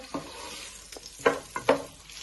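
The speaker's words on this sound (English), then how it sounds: "Now you want to place all your sausages in the pan. You give these a little bit of a stir." Sausages frying in a pan and being stirred, with a faint sizzle beneath three or four short scraping strokes close by, and no voices.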